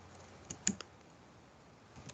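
A few quiet keystrokes on a computer keyboard while a drawing command is entered in CAD software, three close taps together and then two more a moment later, over faint background noise.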